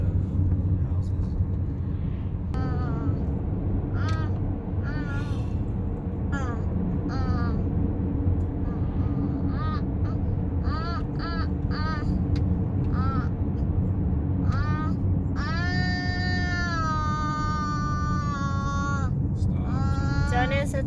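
A child imitates a giraffe sound during a family road trip through Rocky Mountain National Park, making a run of short repeated squeaky calls and then a longer, higher wavering cry over steady car cabin road noise.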